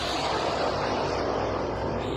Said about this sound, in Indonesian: Drone.